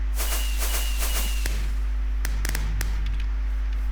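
Fireworks in the Minecraft video game go off as a series of sharp cracks and bursts, several close together, over a constant low hum.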